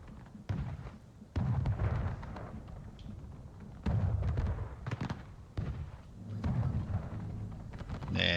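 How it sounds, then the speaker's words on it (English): Cannon shells bursting early in an artillery barrage in a Civil War video game, a series of heavy booming thuds every second or so over a constant low rumble. "See shells exploding way too early from that cannon."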